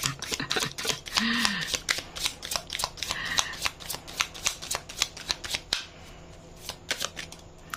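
A deck of tarot cards being shuffled by hand, with repeated crisp riffling and flapping bursts close by, plus a few faint voiced sounds in the background.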